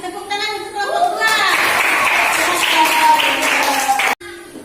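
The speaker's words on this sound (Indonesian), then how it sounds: "tepuk tangan untuk kelompok 2" Classroom applause for a student group of schoolchildren, broad dense clapping swelling after a brief voice, held steady and loud for a few seconds before cutting off abruptly near the end.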